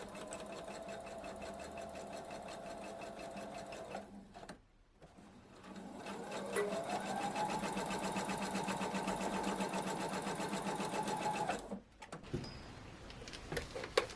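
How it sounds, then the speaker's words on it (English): A sewing machine sews the shorter borders onto the center panel of a tropical fish art quilt, running in long steady stretches of fast rhythmic stitching with a brief stop in between, close and loud with no voices. "Sew the shorter borders to each side of the rectangle."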